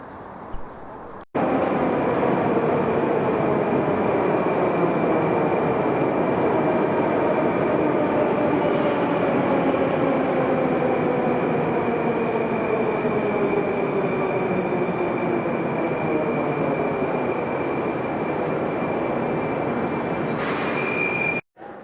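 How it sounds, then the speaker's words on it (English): A Moscow metro train riding along with loud, continuous wheel squeal and steady rail rumble throughout, broken only by brief quiet at the start and end. "we are going to catch metro to go to the center of Moscow"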